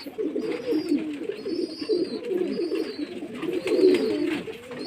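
Pigeons in a loft coo steadily and close by, waiting to be fed, with a few brief flutters and soft higher squeaks over the continuous low cooing.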